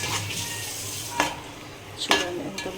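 A spoon stirs a spice mixture in a pan for a spicy chicken dish, with a low sizzle underneath and a few sharp scraping knocks against the metal at intervals.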